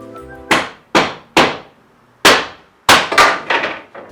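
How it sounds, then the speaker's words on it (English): A mallet knocks the legs off a wooden dresser with about seven sharp, ringing wooden knocks, spaced irregularly and each decaying quickly, close and loud. "I'm gonna just take a mallet and"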